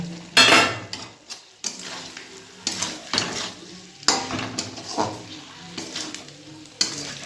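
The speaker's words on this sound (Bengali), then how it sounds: "পুরো মশলাটার সাথে সিমের সাথে মিশিয়ে দিলাম বেগুনটা" Fried eggplant being stirred into a bean curry in a pan, with a utensil scraping and clattering against the metal in irregular strokes over a soft sizzle, close and fairly loud.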